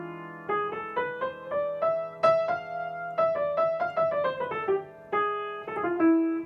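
A harmonic minor scale played on a pitched instrument starting from E, the fifth degree, moving through a run of clear sustained notes with a Spanish flavour, bright and close, no voices.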